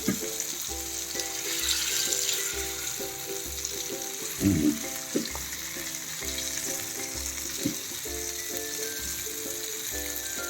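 Pomfret fish pieces fry in oil in a pan, a steady close sizzle running throughout with a few clinks and a louder crackle near the middle.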